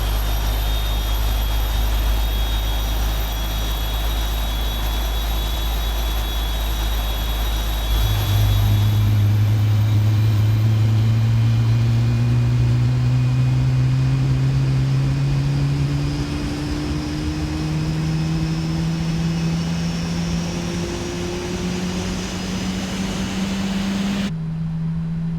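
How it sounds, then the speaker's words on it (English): Engine number 2 of a Boeing 777-300ER in the PMDG flight simulator spools up during start, its whine rising steadily in pitch over a constant cockpit hum and low rumble, with no talking. "we're going to go ahead and start up engine number 2"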